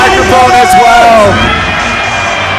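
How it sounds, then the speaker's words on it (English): A high school basketball student section yells loudly in unison at a game in Evanston, a dense roar of young voices shouting across a crowded gym with cheering mixed in. "the student section yells the last name of the starter"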